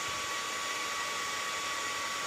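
Cooling fan of a repaired PC power supply, model G1266, running after the repair: a steady, even whoosh of air with a faint whine, continuous and fairly quiet, with no talk.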